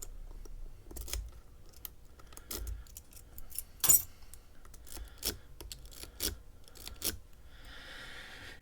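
A Medeco biaxial T-handle cam lock key being handled near a vise, with faint scattered metallic clicks and light jingles over a quiet background.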